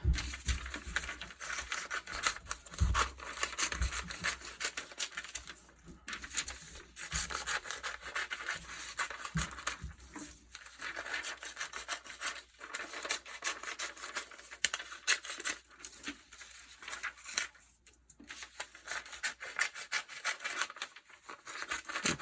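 Scissors cut strips from a long rectangle of newsprint, giving close, continuous rasping snips and paper rustling in uneven bursts with brief pauses, and no one speaking.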